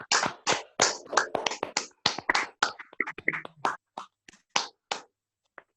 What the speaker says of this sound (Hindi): सबका स्वागत करें तालियां बजा कर